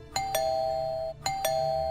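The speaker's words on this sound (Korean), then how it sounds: "초인종을 누르더래요" An indoor doorbell gives a clear electronic ding-dong chime, rung twice in a row, each pair of tones ringing out cleanly with nothing else heard.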